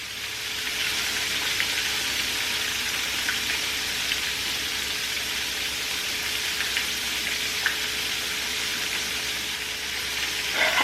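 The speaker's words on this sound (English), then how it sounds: "you're gonna let each side fry for about 2 to 3 minutes" Catfish fillets frying in oil over medium heat, a steady dense sizzle and crackle that stays loud and even throughout, with no talking.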